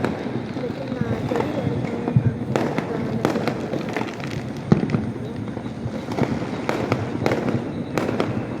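Diwali firecrackers burst outside, heard from a distance as a steady crackle of pops with sharper bangs scattered through, over a background murmur.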